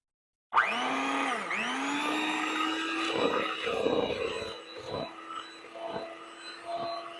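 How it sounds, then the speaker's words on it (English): An electric mixer whirs steadily through sour cream cheesecake batter, starting abruptly with a brief speed dip, then holding a loud, sustained motor hum with shifting churning as the beaters work. "And we're back to the mixer."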